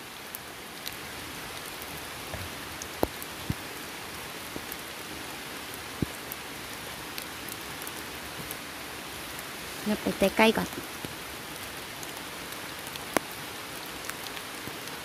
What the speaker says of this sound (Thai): ฝนก็ตกบ่เซาเลย